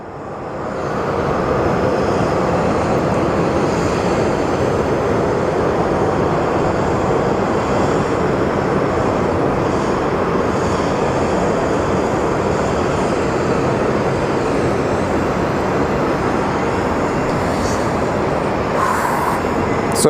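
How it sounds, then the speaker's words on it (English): A FedEx MD-11 jet at Sky Harbor airport produces a loud, steady engine roar that swells in over the first second. The roar then holds evenly for about twenty seconds, with no talk over it. "What I see moving towards us is a FedEx MD-11."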